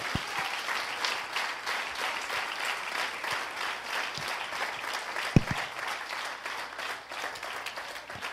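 A church congregation breaks into loud, sustained applause filling the room, dense clapping with a few sharper claps standing out and no voices over it.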